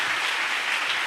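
A church congregation claps in acclaim of the Lord at a Pentecost service, steady, dense applause filling the room with no voices over it.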